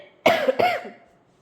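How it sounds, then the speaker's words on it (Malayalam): A woman who is unwell gives two quick, close coughs in a row, the second trailing off into quiet. "ഞാൻ സംസാരിച്ചുകൊണ്ടിരിക്കുമ്പോൾ ചുമ വരും കേട്ടോ"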